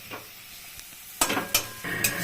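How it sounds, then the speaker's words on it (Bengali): Spice paste for a prawn, cauliflower and eggplant curry is sautéed in a pan over a low gas flame: a soft, steady sizzle broken by three or four louder scraping stirs near the end. "এখন মশলাটা একদম গ্যাস সিম করে দিয়ে মশলাটাকে ভালো করে কষাবো খুব সুন্দর করে।"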